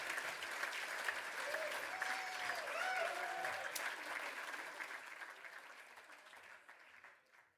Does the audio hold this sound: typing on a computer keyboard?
no